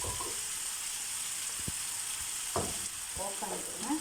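Onion fries in a pan with a steady, close, bright sizzle throughout. A few soft knocks and scrapes of stirring come near the end, with no talk.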